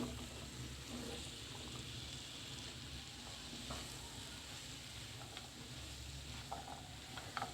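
Dried loitta fish being stirred and fried in a pan before eggplant and potato go in, giving a steady, fairly faint sizzle with soft scraping from the stirring and no talk over it.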